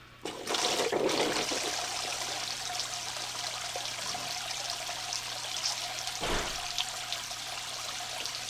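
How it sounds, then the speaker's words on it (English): Water from a leaking Aquel Ultra Max aquarium canister filter runs and trickles steadily across the floor around its top lip, a continuous close pouring wash with a brief splash partway through. "we got water running in the floor all the way around that top lip"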